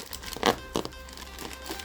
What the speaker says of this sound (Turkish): Şu bantları sökeceğiz.